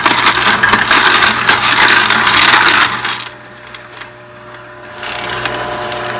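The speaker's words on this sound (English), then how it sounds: "half a cucumber that I've cut, and I'm going to juice it" A juicer grinds through cucumber and carrots with a loud, dense crushing whir, eases briefly, then picks up again at a lower level.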